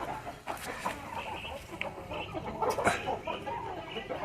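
Medak breed chickens, breeder hens and roosters, on a Telangana farm, clucking in a busy overlapping flock, close and moderately loud with a few sharper calls.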